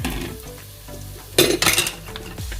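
Garlic and shallots are stir-fried in a hot pan, with a steady sizzle under loud scraping and clattering of a spatula against the pan in quick bursts.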